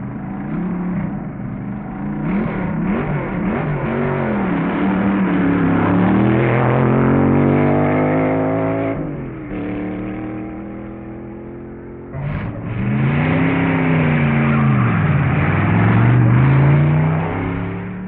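Dragster engines roar, rising and falling in pitch as B-class dragsters accelerate hard at the 1961 U.S. Nationals, Indianapolis Raceway Park, a loud sustained motor drone with a brief dip midway before revving up again.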